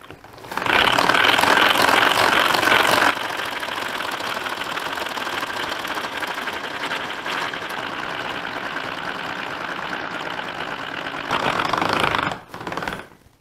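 A Tupperware Speedy mixer running at speed 1 as it whips cream into chantilly, a steady mechanical whirring and rattling that holds loud for several seconds, drops to a slightly lower drone, then surges again near the end before stopping.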